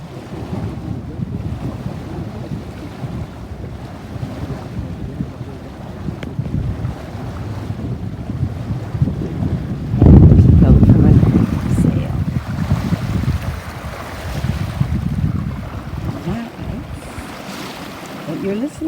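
A sailboat moves across open water away from Thormanby Island, with constant wind buffeting and low rushing waves against the hull, swelling louder midway through.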